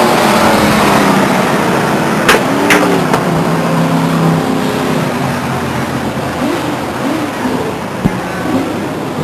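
Race cars roar down the backstretch at Stockton 99 Speedway under a green flag, with loud engine noise and a couple of sharp bangs. The racing stays close and continuous, with no talk.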